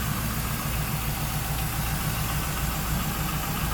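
A 1999 Pontiac Trans Am's 5.7 liter LS1 V8 idles steadily and close by, a smooth low rumble with an even pulsing throb that holds constant for the whole stretch, with no voices.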